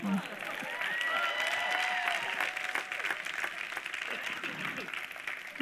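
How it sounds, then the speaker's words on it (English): An audience claps at a spiritual discourse on a scripture verse, a broad wash of applause filling the hall, steady at first and then gradually easing, with faint voices and background tones mixed in. "But if you have understood, you can clap."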